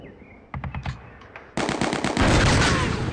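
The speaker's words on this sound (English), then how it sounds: "Anti-aircraft machine gun duel." Anti-aircraft machine guns trading fire in the war game Steel Panthers: World at War, a short rattling burst followed by a louder, sustained stream of rapid automatic shots, with no voices.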